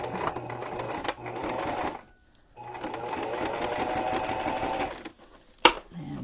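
Sewing machine stitching a junk journal cover in runs of steady whirring, with two pauses and a short sharp clack near the end. A voice talks quietly beneath it.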